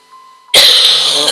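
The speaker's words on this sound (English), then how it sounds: "cough again" A single harsh cough from a character in the video game Zelda: Twilight Princess bursts out after a faint steady tone, loud and close, trailing off with a rough breathy tail.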